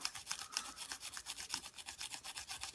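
A cheap toothbrush scrubs paint off a plastic model figure in rapid, steady back-and-forth strokes, a fine bristly rasp repeating evenly, quiet and close, with no talking.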